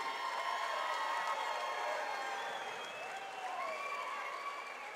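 A large crowd at a Cage Titans MMA event applauds steadily with scattered cheers and whistles, a dense, continuous roar of clapping heard from within the audience.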